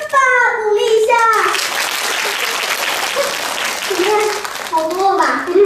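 Audience applause at a stage performance, a dense burst of clapping between the performers' voices, with talk heard before and after it.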